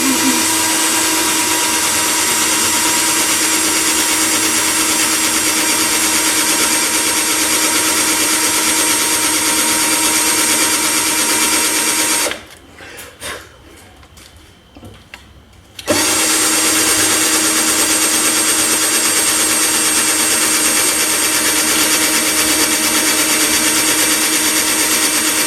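A power drill with a dull bit grinds steadily into a broken wind chime tube, loud and continuous, stopping for a few seconds of near quiet before the whine resumes.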